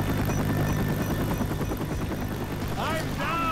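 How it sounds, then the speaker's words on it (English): Helicopter in the video game Left 4 Dead 2, a steady droning rotor hum under game gunfire and excited player voices talking over it. "Dude, the helicopter."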